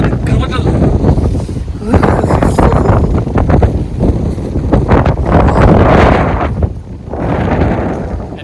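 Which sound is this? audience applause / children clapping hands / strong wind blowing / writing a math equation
strong wind blowing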